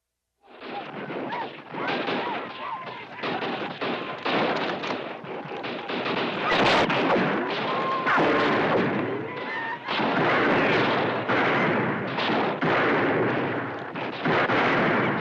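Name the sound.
gunshots in a western town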